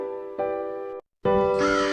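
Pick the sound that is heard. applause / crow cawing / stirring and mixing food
crow cawing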